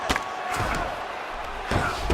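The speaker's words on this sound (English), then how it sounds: "the crowd pops in appreciation as the fighters work their way back to the feet" Arena crowd noise in the UFC 5 video game bout between Kamaru Usman and Israel Adesanya, a steady roar with louder swells, heard alone without talk.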